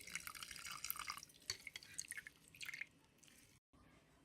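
Water drips and trickles from a cloth squeezed around freshly made homemade paneer, soft irregular patters close by that fade to near silence at the end.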